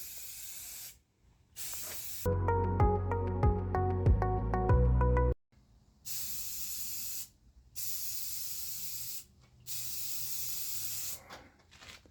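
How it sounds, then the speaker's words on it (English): Spray can of automotive sandable primer hissing onto a BMW Z4 being fixed for a minor dent, in several steady bursts of a second or more, broken by a short melodic tone partway through. "we have one can of automotive primer and sandable primer"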